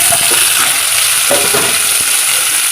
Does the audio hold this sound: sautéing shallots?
yes